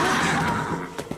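Cartoon horses on a hot, dusty trail whinny in alarm, a loud neigh fading out over a second, followed by a couple of short snorts or stamps.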